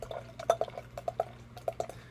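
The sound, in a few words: pouring Dogfish Head Positive Contact beer into a glass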